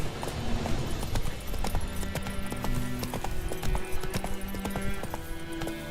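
Hooves of Roach, Geralt's horse in The Witcher 3 video game, clip-clop in a steady galloping rhythm, loud and close, with an occasional faint whinny and game music underneath.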